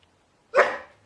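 A dog gives a single loud, close bark on command during a hot dog taste test, a sharp burst that fades over half a second in an otherwise quiet room.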